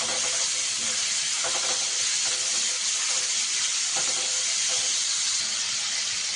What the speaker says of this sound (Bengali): চিংড়ি মাছটা দিয়ে আমি একটু ভেজে নেবো চিংড়ি মাছটাকে